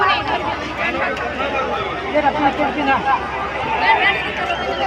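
Dense crowd hubbub at a busy Rath Yatra festival market: steady overlapping chatter and voices from many people milling around, close and continuous throughout.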